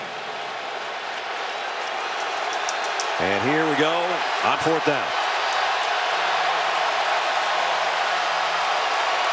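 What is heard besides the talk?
stadium crowd cheering loudly at college football game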